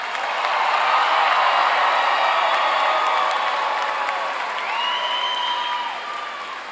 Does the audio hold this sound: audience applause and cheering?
yes